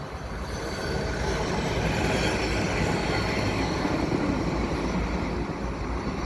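A CN hi-rail truck rolls along railway tracks at Dorval with a steady rumble and faint rhythmic wheel clatter, loud and continuous without any pause.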